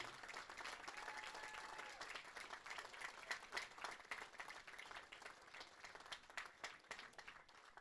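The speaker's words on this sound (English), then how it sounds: "Let's give all these outstanding student athletes, coaches, and staff a round of applause." Crowd applause for college softball athletes, coaches and staff at an NCAA Division III championship super regional, a fairly soft, sustained round of clapping with scattered sharper claps, heard from some distance.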